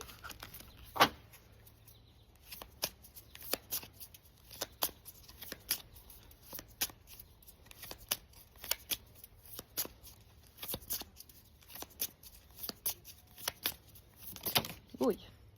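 Inner child oracle cards are shuffled and pulled, giving soft papery riffles and flicks scattered through the stretch, fairly quiet, with a few sharper card snaps near the start and end.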